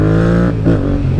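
Yamaha MT-07 motorcycle engine revving up close, a loud steady growl that dips briefly and climbs again, with no one talking over it.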